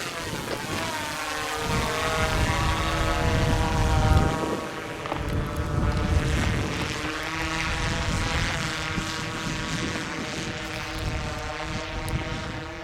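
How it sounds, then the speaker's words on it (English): A drone flying over a property, a steady loud propeller whine with layered harmonic buzz holding for over twelve seconds, slight swells in intensity, nothing else audible over it. "So the drone's up in the air."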